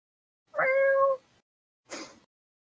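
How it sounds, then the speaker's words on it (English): A single loud, drawn-out cat meow, close and clear, followed by a brief quieter rustle; no talking. "Cat is loud."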